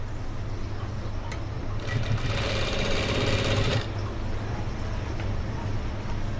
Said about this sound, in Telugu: ఇలా జాగ్రత్తగా చిన్న చిన్నగా కుట్టుకోండి ఫాస్ట్ గా అయితే అవదన్నమాట కాలర్ కదా నీట్ గా రావాలంటే నిదానంగా కుట్టుకోవాలి